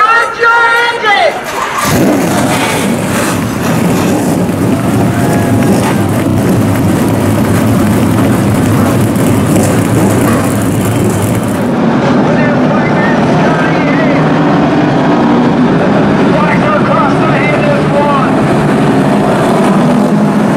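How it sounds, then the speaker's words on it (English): Several late model race car engines start up and rev in a steady, loud roar at a dirt track feature event, a brief burst of broadband noise at the start, then the engines drone together continuously with faint crowd noise beneath. "Ladies and gentlemen, start your engines!"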